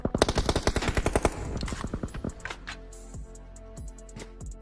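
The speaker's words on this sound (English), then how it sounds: "Myth should be hearing the gunshots coming in from behind" Rapid bursts of automatic gunfire up close in a video game during an esports match, followed by a few scattered single shots with ringing tails as the firing dies down.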